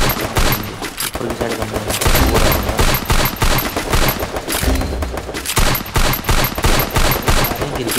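Heavy bursts of automatic gunfire in a Free Fire Clash Squad match, loud and close, with rapid shots and short pauses, and someone speaking briefly over the shooting.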